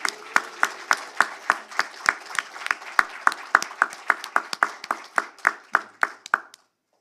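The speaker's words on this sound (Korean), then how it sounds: "오늘 와주신 우리 기자님들 위해서 우리 박수 한번 크게 한번 치도록 하겠습니다" A small group claps steadily in sharp, evenly spaced claps for several seconds, close by, then stops, at a corporate governance awards ceremony.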